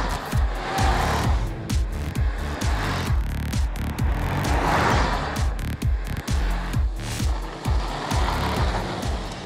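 An AMC Pacer on a test drive gives a rhythmic, busy engine and road sound with repeated pulsing and clattering, moderately loud and near, with no voices.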